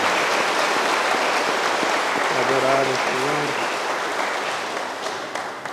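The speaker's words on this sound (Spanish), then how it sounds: "Un aplauso para los buen Dios." Congregation applauding in church during a dawn Advent Mass, a broad steady clapping wash that tapers off toward the end, with a voice speaking briefly over it in the middle.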